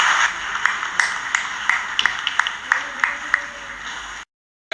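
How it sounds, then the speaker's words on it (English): An audience applauds at the 2007 Fiji launch of Dr Narsey's gender book: sustained crowd clapping with scattered sharp claps for about four seconds, then a sudden cut to silence. "Ladies and gentlemen, please join me now in applauding Dr. Narsey for his work and officially launching this new book."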